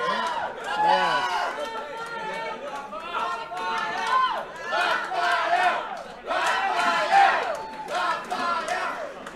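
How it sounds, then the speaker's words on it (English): A crowd at the 2016 Asia Pool Challenge team pool match in Ho Chi Minh City cheers and shouts for a favoured player, with many voices rising in loud waves throughout, close and continuous. "As you can hear from the crowd, he's a crowd favorite."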